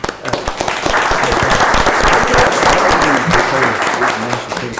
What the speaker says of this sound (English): let's recognize them right quick with a round of applause